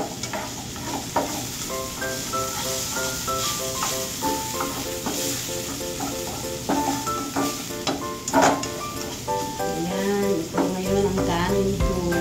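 Garlic, hotdog and longganisa sauté in a pan for fried rice, giving a continuous sizzle and stirring scrapes under music that plays throughout, with no talking.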